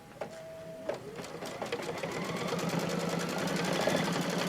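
An embroidery machine stitches around an appliqué on an in-the-hoop quilted placemat, starting with a few sharp clicks before settling into a steady, fast mechanical chatter that keeps building and runs continuously at close range.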